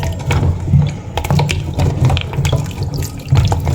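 Steady rush of running tap water as ingredients for pansit bihon with tapalang and chicken are washed at a sink, close and continuous with small splashes and clatters throughout.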